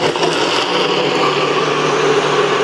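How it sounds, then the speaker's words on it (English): A blender whirs loudly and steadily as it blends hot chili sauce with ice, a continuous, unbroken grinding roar with no talking. "Got my blender ready. Let's blend it up."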